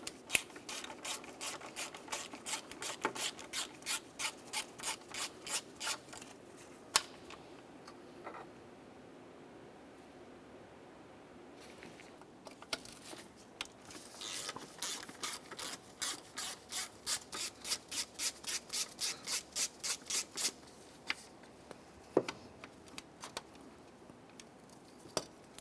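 Two T40 Torx screws are being backed out of the power steering reservoir on a 2004–2010 BMW X3, with bursts of rapid ratcheting clicks separated by pauses, faint and close.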